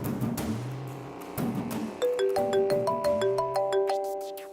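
A phone ringtone plays on a repeated call, starting with low swooping tones and then moving into a bright, looping melody of stepped electronic notes, loud and steady with no talking over it.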